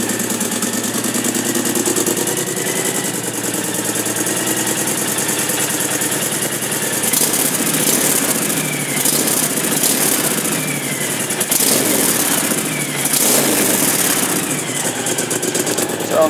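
A 2010 Honda Stateline motorcycle with stock exhaust idles steadily nearby, a continuous low rumble with slight uneven throb, no voices over it.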